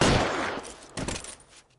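Gunshots in a police video game: a short burst of loud, sharp shots, a first heavy blast then a second cluster of cracks fading out quickly.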